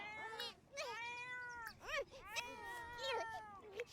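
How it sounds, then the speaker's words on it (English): Cat in The Sims 4 screaming with repeated loud, drawn-out yowling meows in quick succession, clear and close over a quiet background. "And a screaming cat."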